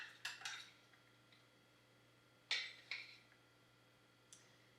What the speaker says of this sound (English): We will spoon this now onto the bottom.